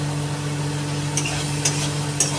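Fried potatoes are stirred into a shankar fish jhal masala, with three brief soft scrapes over a steady low hum and a faint background sizzle, no voices.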